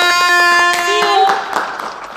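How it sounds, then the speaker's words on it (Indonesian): An audience claps at the close of a podcast session, the sharp, rhythmic hand claps sounding under a sustained tonal voice or music line that fades out toward the end. "Tepuk tangan dulu semuanya"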